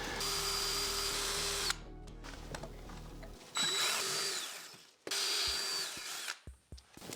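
Power drill boring a hole during a Tesla motor rewiring job, with a whining motor that runs steadily, stops, then restarts in shorter bursts with clicks and rattles between them, close and alone without talk.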